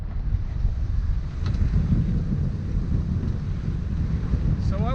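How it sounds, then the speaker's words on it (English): Strong wind buffets the microphone aboard a Bavaria 41 sailboat at sea in about 20 knots, a continuous roaring rush with low rumble and faint water sounds. "So I was right about the wind."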